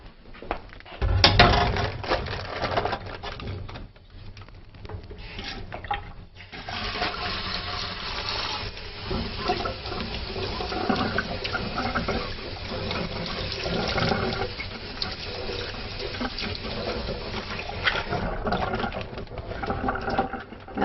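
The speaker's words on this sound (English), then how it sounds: "I'm going to take this edamame now and I'm going to rinse it under cold water." Cold tap water runs steadily over edamame in a kitchen for about twenty seconds, a continuous splashing rush that starts with a burst and holds at moderate loudness, with no talking.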